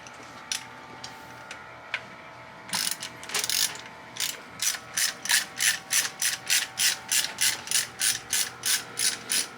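A ratchet clicks rapidly in an even burst of some fifteen close, crisp strokes, after a few scattered single clicks, while the rubber intake manifold is removed from a Polini Thor 303 paramotor engine on a work stand, with no voices.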